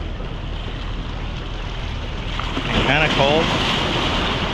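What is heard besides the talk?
strong wind and ocean surf at the beach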